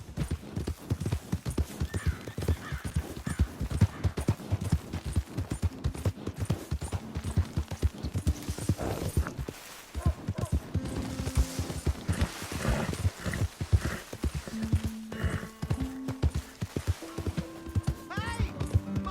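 Horse hooves clip-clop in a rhythmic, steady gait on the ground in the Red Dead Redemption 2 video game, with occasional snorts and a whinny, plus some game sounds and brief voices near the end.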